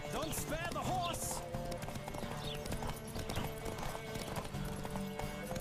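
Horse hooves clip-clopping at speed in the video game The Witcher 3, rapid rhythmic beats under game music and a spoken voice, with a brief whinny near the start.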